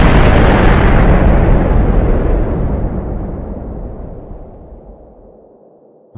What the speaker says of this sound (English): This one says that it's very similar to a nuke.